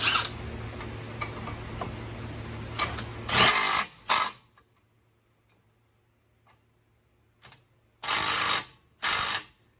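Impact or power tool tightening two 17mm brake caliper bracket bolts on a 2016 Honda Civic in a cluttered home shop, with two pairs of short loud buzzing bursts separated by quiet pauses.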